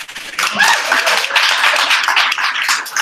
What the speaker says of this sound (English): Another round of applause for Lee.